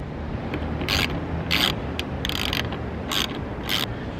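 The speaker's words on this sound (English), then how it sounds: "And then we'll just go ahead and bolt those down." Roof rail feet for 80/20 aluminum extrusion being bolted down on top of a camper van, heard as six short, bright ratcheting bursts spaced about half a second apart over a steady low background.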